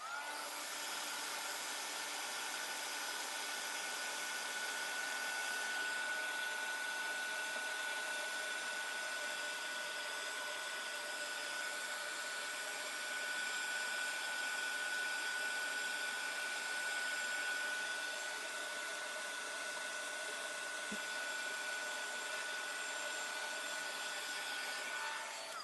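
A hair dryer blows steadily and continuously at close range, drying ink on a handmade card, with a constant whooshing hum that never pauses.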